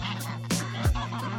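Geese honk a few times in short, separate calls while eating tofu. The calls sound close and moderately loud over a low, steady background hum.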